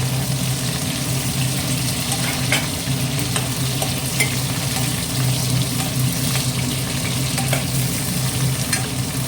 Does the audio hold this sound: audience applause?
no